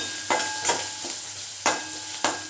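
Capsicum and green chillies for soya chilli frying in a pan, with a soft steady sizzle punctuated by four or five distinct stirring strokes.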